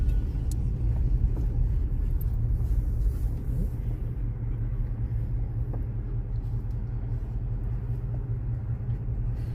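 A car creeps slowly around a crowded parking lot, heard from inside as a low steady engine rumble with faint road noise and no talk.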